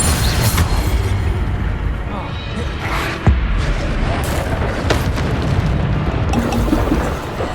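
Repeated Bombarda spell blasts in Hogwarts Legacy combat trials, dense booming bursts over a continuous roaring rumble, loud and close, with one sharper impact in the middle.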